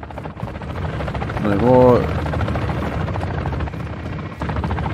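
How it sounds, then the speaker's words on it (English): Helicopter in the Warzone MW3 video game, a steady rotor drone beneath constant gunfire and game noise, swelling briefly in the middle, with a player talking over it. "Shoot out the helicopter."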